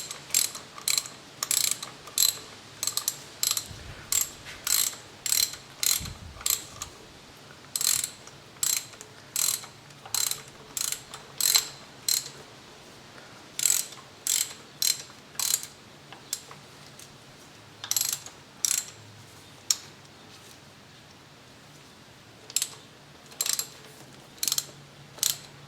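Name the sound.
ratchet tightening spark plug in Mazda Protege engine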